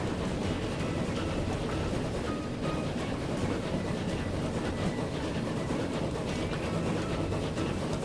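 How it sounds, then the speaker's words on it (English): Steady low rumble of a train running on tracks in Transport Fever 2, a continuous even rolling noise with faint clicks, alone without talk. "It's the only train going up and down there at the moment, but it seems to be going moderately quickly."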